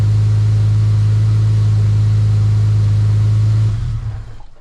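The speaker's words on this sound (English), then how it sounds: "Crank and start, but it works. The car runs again." An EL Ford Falcon Turbo engine idles loud and steady with a deep rumble, running alone, then is switched off and dies away over the last second.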